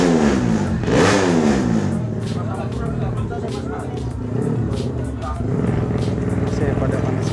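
Racing motorcycles, including Kawasaki Ninjas, rev their engines in a busy paddock at a drag race event on an airbase, with overlapping loud engine revs, rising pitch sweeps and crowd chatter, under someone talking.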